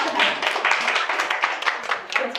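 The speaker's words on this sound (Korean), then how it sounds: "박수 한번 주세요." An audience at a church teachers' class applauds, a dense steady burst of many hands clapping at close to mid range, filling the whole moment without speech.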